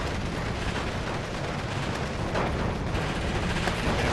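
Mortar shelling in the WWII strategy game Steel Division 2, during a forest battle at Tannenberg, as dense continuous booming and rumbling barrage, loud and steady throughout with no talk.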